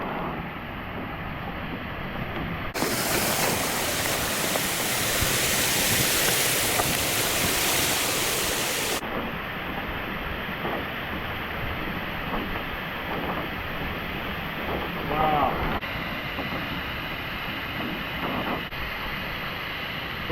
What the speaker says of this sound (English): I saw this here waterfall and I could not pass it up.